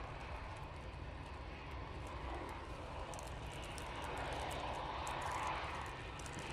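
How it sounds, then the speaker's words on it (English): A Ryanair airliner landing at Manchester Airport on a gusty day makes a faint, steady engine roar with a broad hiss that gradually strengthens toward the end, while wind buffets the open air. "Ryanair coming down in front of us."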